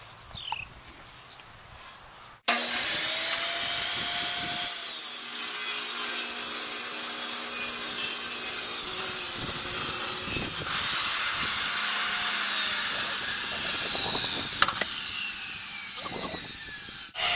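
A circular saw with its blade set to half-inch depth cuts through wood for a dome cover build, a loud continuous whining rasp running steadily for about fifteen seconds after a quiet start.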